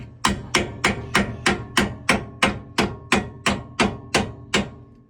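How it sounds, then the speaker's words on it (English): A hammer strikes a socket onto a car's hub nut about a dozen times in a steady, even rhythm, each sharp metallic knock ringing briefly, close and loud, during brake disc and bearing work. "Just knock that on my hub nut."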